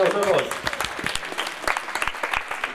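Audience applause for a team in an ideas contest, a steady patter of clapping hands under a nearby voice speaking at the start.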